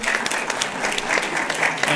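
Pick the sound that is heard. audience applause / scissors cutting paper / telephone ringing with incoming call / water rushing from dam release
audience applause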